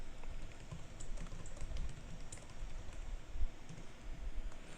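Computer keyboard typing and mouse clicking while editing a text clip in Kdenlive 0.9.4 video editing software, a steady stream of close, fairly quiet keystrokes and clicks over faint background noise, with no voices.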